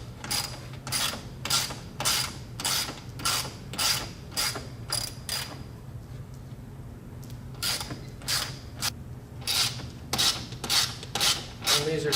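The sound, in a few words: removing bolts from Ford F-150 Raptor grille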